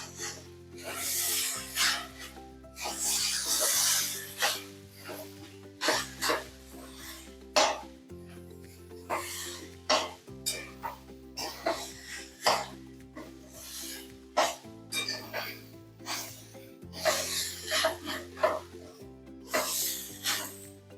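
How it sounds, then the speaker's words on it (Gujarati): Batter for Surati sev khamani is stirred and scraped in a pot in irregular bursts of rubbing strokes, with background music playing throughout. "આપણે આ બધું સરસ રીતે મિક્સ કરી લઈશું."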